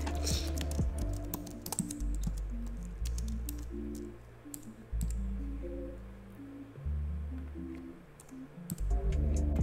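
Steady typing on a computer keyboard while entering text onto a wall art mockup, with continuous light key clicks and a low background hum, no talking.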